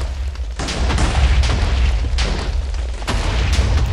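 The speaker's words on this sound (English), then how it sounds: "There's just explosions everywhere. And there's TNT flying all over the place." Minecraft TNT explosions going off in rapid succession, a dense rumbling barrage of loud booms and bursts with sharp onsets near 0.6, 1.5, 2.2 and 3.1 seconds over continuous low roar, no talking.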